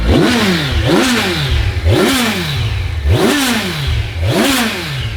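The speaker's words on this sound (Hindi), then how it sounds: "स्टॉक एग्जॉस्ट की आवाज़ इनलाइन 4 की बिल्कुल ऐसी होती है" Stock exhaust of an inline-four motorcycle revving loud and close, five sharp rising-and-falling throttle blips in a steady rhythm with a rasping, clattery edge.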